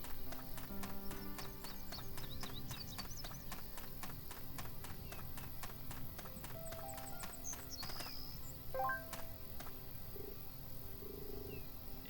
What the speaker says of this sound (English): Sounds like you're riding a horse